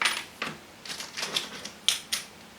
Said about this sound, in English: we're going to pop out a fresh X-Acto blade because this one wasn't cutting too well